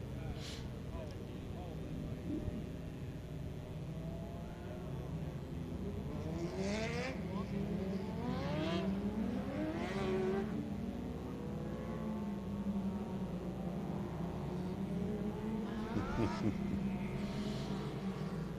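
Dwarf cars racing at the 7th Annual Dwarf Car Nationals championship night, a continuous engine roar with rising and falling revs as cars pass, steady throughout, with an announcer talking over it.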